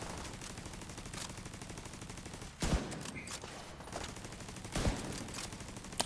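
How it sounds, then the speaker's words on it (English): Rapid gunfire in a video game sniper battle: steady crackling bursts of shots throughout, with two louder, sharper reports standing out, fairly faint overall and with no voices. "Sniper battle."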